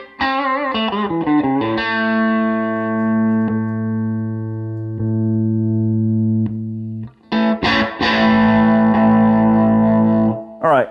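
Telecaster bridge pickup played through a Greenchild Striker compressor pedal: a chord is strummed and left to ring in long, even sustain, then after a short gap it is strummed again, bright and loud with no voices.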